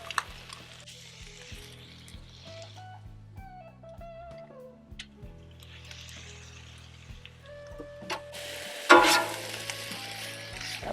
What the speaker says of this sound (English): now we're going to start heating up that ham